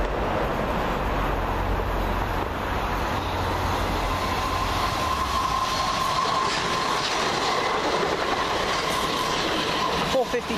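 A train runs through Swaythling station, a steady loud rumble of wheels on rail with clickety-clack and a faint rising squeal, continuous throughout and fairly close.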